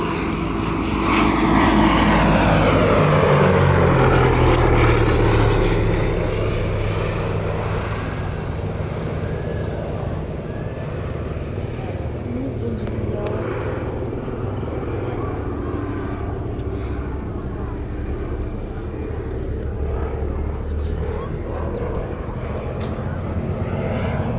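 A Gloster Gladiator biplane's radial engine and propeller pass at an airshow, rising to a loud roar and sweeping pitch, then fading to a steadier distant drone while a commentator speaks over a public address.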